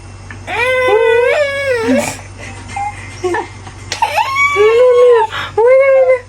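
A dog whimpers and whines in repeated high, wavering cries, close by, with short pauses between bursts.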